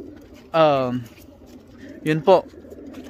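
Racing pigeons coo up close: one drawn-out coo, then a quick pair of shorter coos, with a person briefly speaking nearby.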